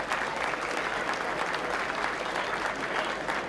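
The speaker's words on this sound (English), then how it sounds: "So a big round of applause to these coaches of both teams" Spectators at a Castleblayney versus Carrickmacross Division 1 football final applaud the coaches of both teams with a steady, moderately distant round of clapping that lasts a few seconds.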